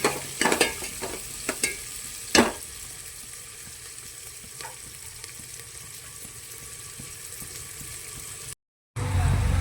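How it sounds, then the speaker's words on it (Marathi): Steady sizzling of onions frying in hot oil, with a few louder clatters of stirring near the start, then a brief silence before the end. "कांदा टाकते फोडणीसाठी।"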